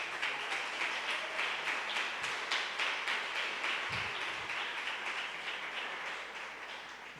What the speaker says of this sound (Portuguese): Bata um aplauso aí para Jesus